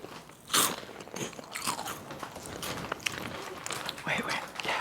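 Chips crunched while eating in a casual mukbang, with repeated close, crisp bites and chewing crackles, one loud bite early on, under quiet voices talking.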